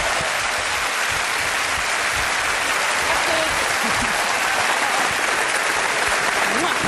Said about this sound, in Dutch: Geef hem hartelijk applaus.